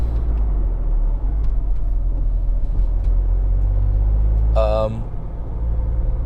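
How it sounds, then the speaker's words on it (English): Cars pass on Beachy Head Road in East Sussex, heard from inside a moving car as a steady low road rumble, with a brief tonal whine like a brake or horn near the end. "as you can probably tell by all the cars I'm driving past"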